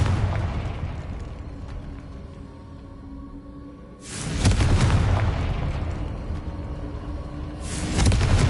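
A Confringo fire spell from Hogwarts Legacy bursts in two loud, broadband blasts, one about halfway through and another near the end, each rolling into a rumbling tail over a quieter ambient bed.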